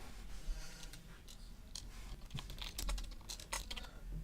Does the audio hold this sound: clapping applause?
no